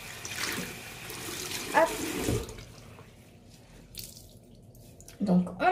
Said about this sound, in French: je vide d'abord toute l'eau